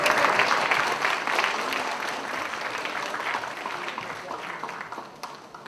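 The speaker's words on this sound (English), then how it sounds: "I think the Gemsters deserve another round of applause." A large crowd at the York College CUNY spring 2010 convocation gives dense, continuous applause. It starts loud and gradually softens over several seconds, with little talking.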